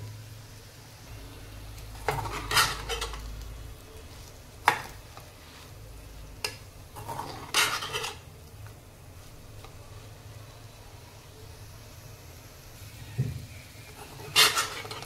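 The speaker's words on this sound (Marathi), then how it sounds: "झाकण न ठेवता आपण ही आता भेंडी शिजवून घेणार आहोत" Chopped okra (bhendi) cooks uncovered in a pan, with a soft steady sizzle and occasional scraping stirs and clinks of a spatula against the pan, heard alone and fairly quiet.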